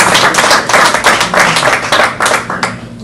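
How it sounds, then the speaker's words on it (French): An audience applauds a Congolese music star at a conference, with close, loud clapping in a fast, slightly uneven patter that pulses in waves throughout. "Nous allons applaudir pour lui."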